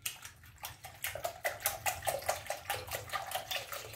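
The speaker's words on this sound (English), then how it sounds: "we're going to add the milk and this is one and a half cup of whole milk" One and a half cups of whole milk poured into a custard mix for croissant bread pudding, a close, rhythmic series of gurgling glugs as the liquid splashes in.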